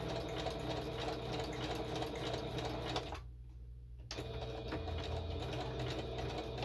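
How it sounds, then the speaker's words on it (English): A sewing machine runs steadily up close while stitching on a craft journal page, with one brief pause before the whirring resumes. "so we've done the sewing"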